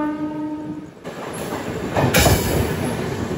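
A MEMU passenger train running between Rajahmundry and Vijayawada, heard from on board: a sustained rumble and clatter of wheels on rails, a horn note early on, rising louder with squealing wheels toward the end, no talk.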